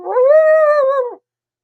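A person imitating an elephant with a single sustained, tonal trumpeting howl lasting about a second, loud and close, ending abruptly into silence.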